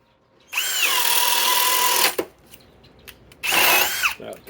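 A Harbor Freight Hercules drill driver boring a 7/8 speed demon spade bit through wood, a loud sustained motor whine for about a second and a half, a brief pause, then a second close, loud burst.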